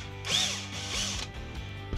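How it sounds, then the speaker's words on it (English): A power drill whirs briefly, its motor pitch rising and falling as its bit bores a hole into a tire, then winds down to near quiet. "we're going to go bigger with this drill bit"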